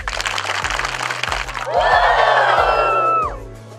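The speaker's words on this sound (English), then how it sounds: "Everybody give Miss Charlie 5 claps and a Ric Flair" A crowd at a community foundation event claps in a rhythmic series of five sharp, evenly spaced claps, then breaks into a loud chorus of high whooping Ric Flair-style woos that fades out.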